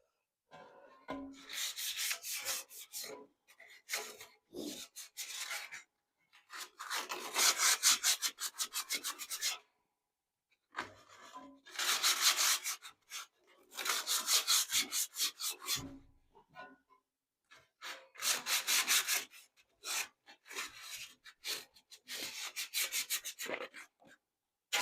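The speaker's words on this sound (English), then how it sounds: "let's stick a little sandpaper." Sandpaper rubbed by hand over a rusty Dayton B20725 metal box fan, steady back-and-forth rasping strokes in bursts of several seconds, separated by brief silent pauses, close and fairly loud.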